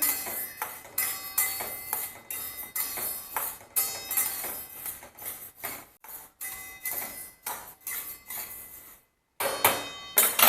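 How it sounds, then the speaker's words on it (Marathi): A spoon or spatula stirs urad dal dry-roasting in a wide pan, making close, quick scraping and clinking strokes in irregular bursts, with one brief pause near the end. "उडदाची डाळ आहे ती पण आपण भाजून घेऊया"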